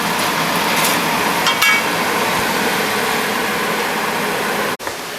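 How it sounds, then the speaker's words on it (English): Chicken fries in a pan for a Cuban chicken and rice dish, a steady broad sizzle close by with a few clinks of utensils and a brief bump near the end. "started frying a little bit, which is good"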